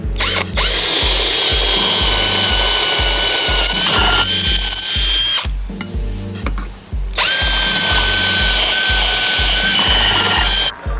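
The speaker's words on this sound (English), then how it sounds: "I'll just drill it straight through." Power drill boring straight through a dinghy's transom, loud close whirring bursts with a rapid low chatter, stopping briefly midway before resuming for another long run.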